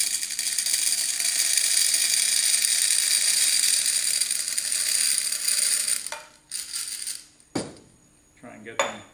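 Small particles pour into a graduated cylinder as a steady, dense rattling stream for about six seconds, followed by a few brief clinks and shakes.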